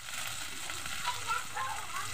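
Tomatoes sizzle in a hot pan for Bengali aloo dum, giving a soft, steady crackling hiss with a few brief pops and no clear talk over it.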